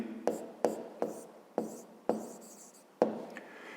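Pen or chalk strokes on a surface during a fifth-grade maths exercise, six or so sharp taps and scratches at a steady pace, close and fairly quiet with no talking.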